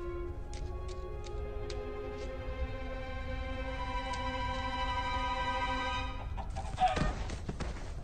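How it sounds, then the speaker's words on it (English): Chicken clucking in the Minecraft Story Mode video game, a few short clucks over a steady tonal music bed, with a brief louder burst near the end. "The Eversource is just a chicken?"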